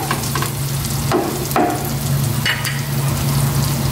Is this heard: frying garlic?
yes